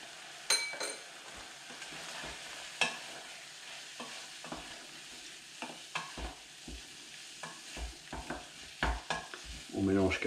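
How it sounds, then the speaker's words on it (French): Morel mushroom sauce thickened with a spoonful of flour is stirred in a sizzling pan, a steady close frying hiss under repeated scraping strokes of the spoon, with no talk. "On mélange quelques instants."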